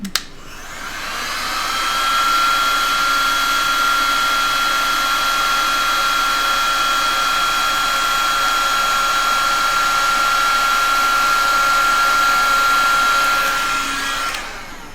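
A heat gun blowing steadily onto KS resin, producing a loud, continuous whirring rush with a steady whine that starts abruptly, holds for about twelve seconds and then cuts off.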